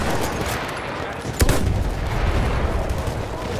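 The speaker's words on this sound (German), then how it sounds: "Ein Maschinengewehr!" Machine gun fire in the first-world-war game Battlefield 1, a dense continuous rattle of shots with one sharper burst near the middle, set against noisy battlefield ambience.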